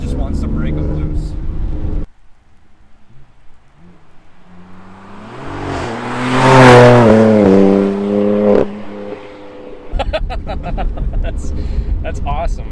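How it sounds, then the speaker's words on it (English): A tuned BMW F80 M3 with a Stage 1 tune and VF hex tune accelerating hard, its engine note climbing through a loud rising sweep, then settling into exhaust burbles, with a person talking before and after. "I like the burbles the exhaust makes."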